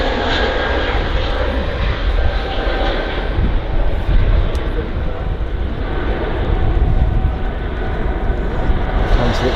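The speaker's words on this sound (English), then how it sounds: "Quite a short takeoff again." Jet airliner taking off from runway 05L at Manchester Airport, a loud, steady broadband engine roar close by that holds throughout with no letup.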